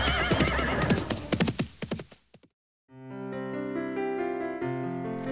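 An animated-cartoon horse whinnies loudly in a long shrill neigh with stuttering breaths and snorts, then after a brief silence a musical sting plays.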